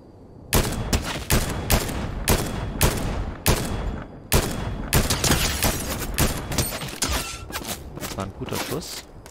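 Rapid bursts of gunfire from a Fortnite match, loud and close, repeating in quick volleys with brief gaps between clusters of shots across the whole stretch.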